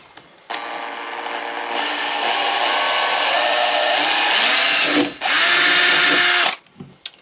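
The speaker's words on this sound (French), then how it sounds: "Donc là on va venir percer." A handheld power drill bores into the body panel of a motorhome, running loud and steady close by for several seconds, then stopping briefly and starting again in a second sustained burst before winding down.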